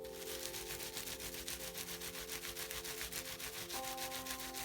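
Felted wool on a felted rock is rubbed firmly to set kinks into wispy strands, producing a close, continuous rhythmic scrubbing over a steady tonal hum.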